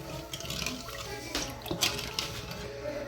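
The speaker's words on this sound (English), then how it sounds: "We're gonna pour some fresh water in there." Fresh water splashes and gurgles as it is poured into a pan with scraped bits left on the bottom, a steady close-up wash of liquid with brief spattering bursts.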